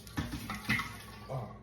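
Star San sanitizer liquid being poured for home brewing, a short close splashing and trickling of liquid with a couple of brief gurgling bursts.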